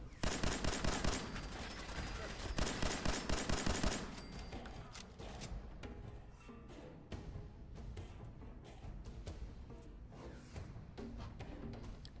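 Tommy gun fire in Fallout 4: rapid, loud automatic bursts in quick rhythmic volleys for about four seconds, then scattered shots and combat noise at lower level.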